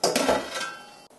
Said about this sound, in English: now we shall put them on the tray